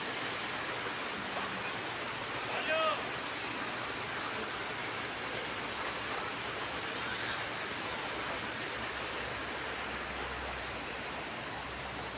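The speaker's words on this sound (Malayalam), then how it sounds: "ഇവിടെ നിന്നും വെള്ളം ഒഴുകി വരുന്നുണ്ട്" Water pours steadily out of a tunnel near a temple, a continuous broadband rush with no breaks, heard fairly faint from a short distance.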